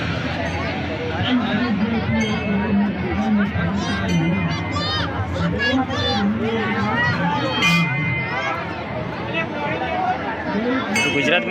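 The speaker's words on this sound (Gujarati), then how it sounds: "તમે જોઈ શકો છો કે આટલી બધી ભીડ છે" Dense crowd at a Ramapir temple in Gujarat, a loud, steady hubbub of many overlapping voices with occasional clinks and raised calls, close by and continuous throughout.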